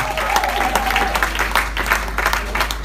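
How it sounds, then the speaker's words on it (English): A congregation claps briefly during a live white wedding church service, a dense patter of many hands close by, with a faint voice underneath. "And then somebody will clap."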